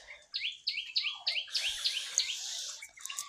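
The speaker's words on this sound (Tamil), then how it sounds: "எனக்கு குருவியே கத்திட்டே இருக்கு" A bird in a cowboy-themed video game chirps about seven quick, clear, descending notes in a row, then trails off into softer twittering, with no one talking.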